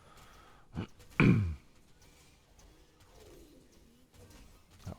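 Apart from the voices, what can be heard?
stomach growling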